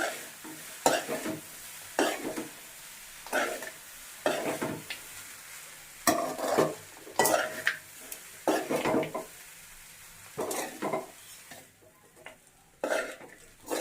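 Vegetable pulao gently stirred in a pot, a series of spaced, soft scraping strokes of a spoon over a faint sizzle, close by and unhurried, with no speech.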